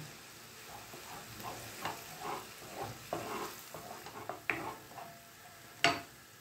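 A spoon stirs ginger-chili paste and turmeric in a hot pan, with soft sizzling under repeated scraping strokes and a few sharper clinks against the metal, close and quiet with no speech.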